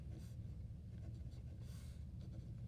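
Pencil or pen writing words by hand on a third grade practice book page, faint scratchy strokes in short bursts, close up and quiet against a low background hum.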